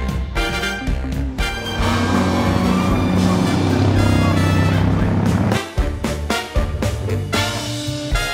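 Touring race cars, including an Alfa Romeo, roar past on a circuit with a loud sustained engine drone, a brief drop near the end, then more engine rasps and gear changes.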